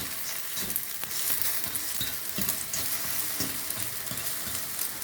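Beaten egg fries in a hot pan for egg fried rice. A dense, even sizzle carries quiet tapping and scraping from a utensil throughout, with no talking.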